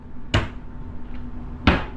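Hotel room bureau drawers slam shut twice, sharp loud wooden knocks a little over a second apart against a quiet room.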